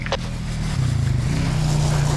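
An off-road vehicle engine idles in the Quartzsite desert, a low steady rumble that grows louder and rougher partway through, with a brief sharper sound near the start.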